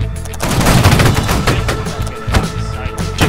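Musket volley fire in a line battle video game, a dense crackle of overlapping shots in quick succession, loud and close, with scattered sharper reports throughout.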